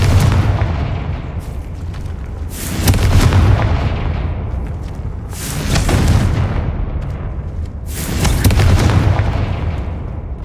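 Three heavy magical blasts from the Confringo fire spell boom out in Hogwarts Legacy, roughly three seconds apart, each a loud burst that swells and then rumbles away, with no speech.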